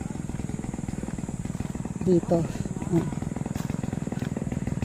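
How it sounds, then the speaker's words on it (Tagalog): A chainsaw cuts into a large mahogany tree, its engine holding a steady pulsing drone at close range while a person speaks a few brief words over it. "Ay, yung mahogany ang nilalagari."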